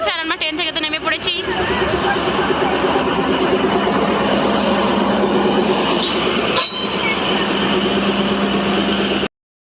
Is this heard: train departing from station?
yes